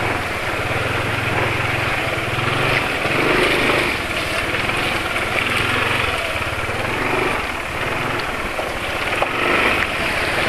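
A rough, rattly diesel engine running on CAT DEO oil with Mannol Ester additive runs steadily at close range, its low chugging drone continuous and loud throughout with no talking.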